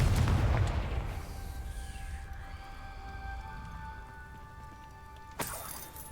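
The Confringo fire spell from Hogwarts Legacy bursts with a heavy boom at the start, followed by a long, ringing tonal tail that fades slowly, and a second sharp crack near the end, with no talking.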